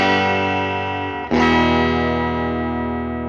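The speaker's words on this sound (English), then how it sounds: "So this is what that back pickup sounds like." A Fender Custom '52 Telecaster electric guitar played through its back pickup with a distorted, effected tone: a sustained chord rings, breaks off briefly near the middle, then a loud new chord is struck and slowly fades.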